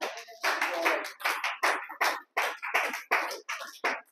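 A church congregation bursts into applause during an evangelistic sermon, loud bursts of hand clapping in repeated waves with short gaps between them, close and energetic, no voices audible.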